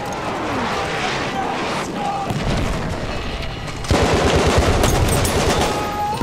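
Dense gunfire and artillery fire in Battlefield 1 during a Rush match, with rapid bursts and heavy booms that grow louder partway through, loud and close.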